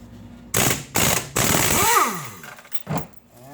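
A ratchet loosens a brake caliper nut on a Maserati in several short, loud, rattling bursts close by, with brief gaps between them.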